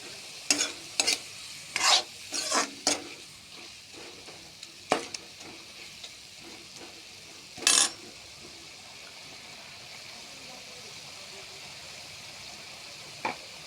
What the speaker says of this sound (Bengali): দিয়ে নাড়াচাড়া করতে থাকবো